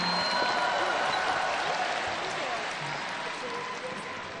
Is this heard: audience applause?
yes